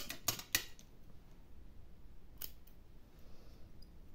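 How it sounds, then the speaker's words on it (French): Scissors snip through material for a shabby chic pouch, two quick sharp cuts close together near the start and one more a couple of seconds later, with quiet room tone between. "Hop, je vais la découper."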